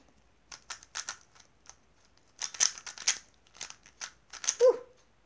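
Scissors snip open the plastic packaging of a 3x3 puzzle cube, with about a dozen crisp, close cuts coming in quick irregular clusters and a crinkle at the end.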